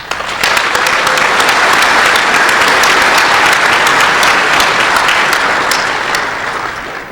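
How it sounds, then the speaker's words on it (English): Loud, sustained applause from a large crowd at the DEF CON 14 hacking conference award ceremony honors the Wall of Sheep crew, dense clapping rising fast and holding steady before tapering slightly at the end. "Give them a round of applause."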